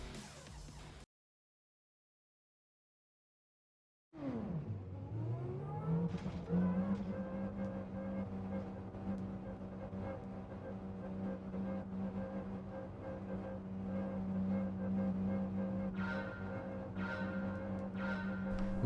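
Race cars at the start of a race in Brazil in a racing video game, the player's grey Porsche among them: after a short silence, a steady engine drone rises in pitch and holds, with faint higher engine tones layered on top.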